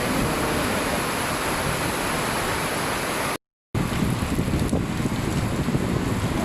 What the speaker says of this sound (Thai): นานๆทีจะเห็นฝนตก